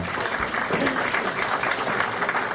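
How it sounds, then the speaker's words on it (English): A steady burst of audience clapping at a Veteran of the Year award ceremony, dense and sustained for the whole stretch, with a faint murmur of the crowd beneath it. "just a nice round of applause for their acknowledgement here."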